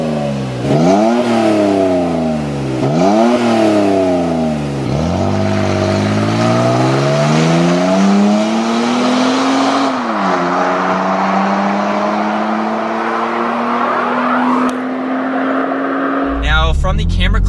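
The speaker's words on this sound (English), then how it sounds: "I'll let you listen to the startup and the takeoff for that MBRP" A Toyota Tacoma with an MBRP exhaust starts up and revs repeatedly in rising, falling sweeps, then pulls away in a long accelerating drone, loud and close.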